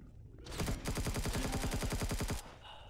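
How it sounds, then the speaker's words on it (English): Rapid automatic gunfire in the space survival game Empyrion Galactic Survival, a loud, close burst of evenly spaced shots lasting about two seconds before cutting off. "Hey, stop firing at me."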